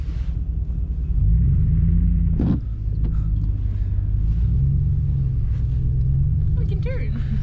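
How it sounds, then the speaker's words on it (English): A RAM 1500 pickup truck engages four-wheel drive lock in snow, its engine rumbling low and steady as the tires work through the snow, close inside the cab, with voices heard briefly. "Oh, now we're in four-wheel drive lock."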